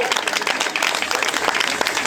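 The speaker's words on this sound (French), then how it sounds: "Vos meilleurs applaudissements pour Pascal Van der Houten." Crowd applause at a mountain-bike cross-country race prize ceremony in Pleuc-l'Hermitage, honoring a winning rider; steady dense clapping over the whole stretch with a voice mixed in underneath.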